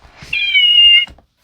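Fluffy plush toy kitty lets out a single electronic meow when its button is pressed, a clear, steady, slightly buzzy tone lasting under a second, close and loud, followed by a soft click.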